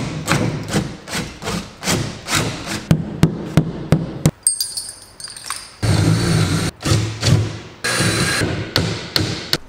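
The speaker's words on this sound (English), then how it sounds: "Drill this one out, so it's just through this door, and then smash the dowel in" A wooden dowel is hammered into a hole drilled through a door, giving a rapid series of sharp, close hammer blows with thuds, a short pause, then more rhythmic strikes.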